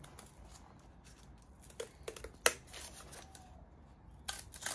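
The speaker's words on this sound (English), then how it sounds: "Just cut out your" Scissors cut paper squares for a mousetrap car build, with quiet close snips and rustling paper, one sharper cut standing out midway.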